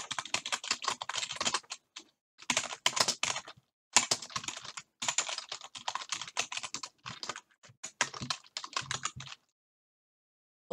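Rapid keystrokes on a computer keyboard arrive in several bursts of typing separated by brief pauses, close and crisp with no talking.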